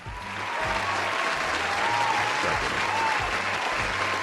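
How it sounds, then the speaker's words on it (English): Steady applause from an audience fills the space, a dense, even wash of many hands clapping together at moderate volume throughout, with no voices over it. "Everybody clap your hands."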